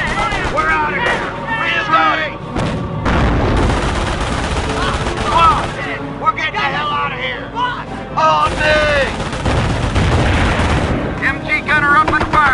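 Machine gun fire in a World War II tank battle in a video game, with heavy bursts of gunfire, explosions and artillery booms throughout, under shouting voices and radio-style chatter.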